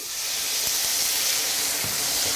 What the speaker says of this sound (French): j'ajoute une cuillère à soupe d'eau pour déglacer